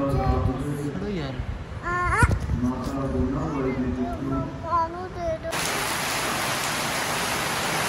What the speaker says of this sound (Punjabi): ਬਾਰਿਸ਼ ਹੋ ਰਹੀ ਹੈ